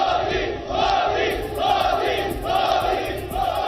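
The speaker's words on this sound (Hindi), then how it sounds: "बाहर खड़े लोगों की भीड़ ने मोदी मोदी नाम के नारे लगाने शुरू" A large crowd chants a leader's name in unison outside an airport, the rhythmic roar rising and falling in repeated waves, loud and dense with no clear single voice.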